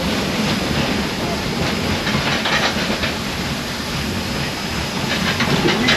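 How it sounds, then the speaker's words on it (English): The NKP 765 steam locomotive rumbles and hisses loudly and steadily as it moves, with a faint rhythmic clatter running through the noise. "Once you get the train moving, all the momentum going"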